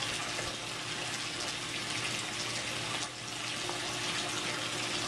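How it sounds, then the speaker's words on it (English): Water rushes steadily through an aquaponics bell siphon, a loud, continuous close-up gush with no pauses or talk. "once it siphons, you should be pushing water through all 2 inches"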